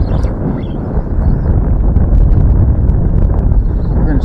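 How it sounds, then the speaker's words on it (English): Strong wind buffets the microphone aboard a fishing boat, a constant low roar and rumble without speech. "Windy today."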